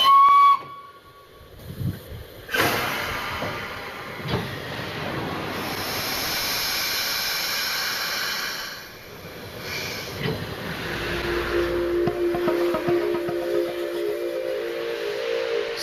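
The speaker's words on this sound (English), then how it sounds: "Steam fills Tornado's cylinders." The steam locomotive Tornado gives a loud steam whistle blast, then a long sustained hiss of escaping steam, with rumbling and a lower whistle tone near the end.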